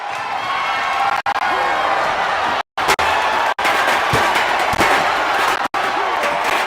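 Arena crowd noise from the WWE 2K25 wrestling game during a SmackDown match: a steady, loud broadband roar of spectators with brief cuts of silence, and a commentator talking over it.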